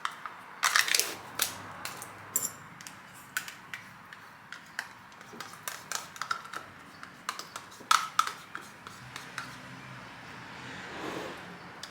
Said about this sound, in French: je vais prendre aussi un couteau pour couper ma banane